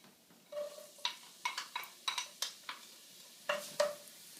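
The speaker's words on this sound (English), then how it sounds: "once the oil is hot, you're going to add 1 yellow onion chopped up" Chopped yellow onion goes into hot olive oil over medium heat for a sweet potato chili, giving a soft, low sizzle broken by several sharp clinks and scrapes of a utensil stirring against the pan, close by with no talk.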